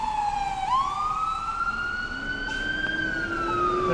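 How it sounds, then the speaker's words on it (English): Two ambulance sirens sweep up and down in pitch, loud and close, one layered under the other as the vehicles pass by on a snowy street near the White House. "There are 2 ambulances going down there."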